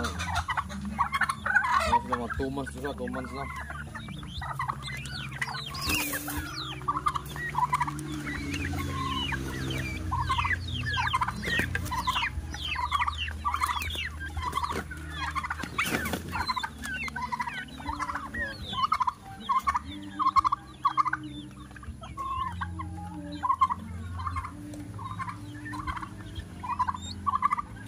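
Turkeys kept on a rural farm gobble repeatedly in a rhythmic, fairly close chorus mixed with other fowl clucking, while a person talks briefly over them.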